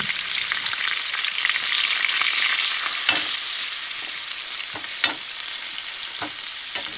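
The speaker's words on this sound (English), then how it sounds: "Then pour the shrimp into the pan." Shrimp frying in melted butter in a pan, a steady bright sizzle with occasional scraping knocks as the pieces are stirred, close up and with no talking.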